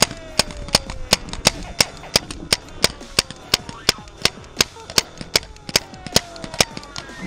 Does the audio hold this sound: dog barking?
no